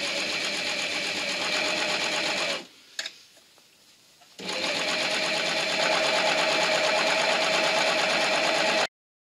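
A sewing machine stitches binding onto the neckline of a raglan sweater, running in a fast, steady hum, stopping briefly for about two seconds, then resuming before cutting off abruptly.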